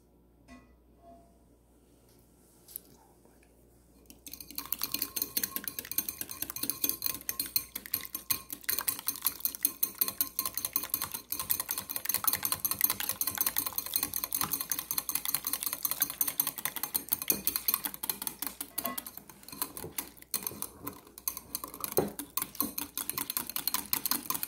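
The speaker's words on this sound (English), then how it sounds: "we're going to constantly beat this just a little longer" A whisk or spoon beats chocolate bread pudding batter with eggs in a small, full bowl, quiet at first, then rapid continuous clattering and scraping against the bowl for about twenty seconds.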